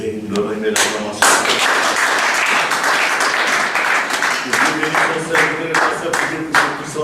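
A church congregation applauding during a worship service, dense clapping that swells and sustains with uneven bursts, mixed with voices and some singing in the hall.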